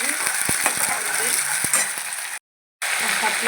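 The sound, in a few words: ginger garlic paste frying in a pan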